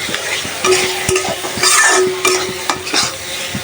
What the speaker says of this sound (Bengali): সব মশলা দিয়ে দিলাম আর এখন মশলার সাথে ভালোভাবে চিংড়িগুলো ভালোভাবে কষায় রান্না করে ফেলি